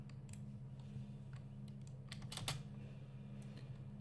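Quick clicking keystrokes on a mechanical keyboard while playing World of Warcraft, in a brief flurry peaking in a dense burst midway. The taps are close and light over a constant low hum, and nobody speaks.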